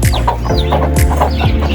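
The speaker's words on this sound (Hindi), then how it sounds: "यहाँ से मुझे चूज़ों की आवाज़ें आ रही हैं" Chicks chirp and cheep repeatedly in short, rhythmic bursts near a coop, with adult chicken clucking mixed in close and loud.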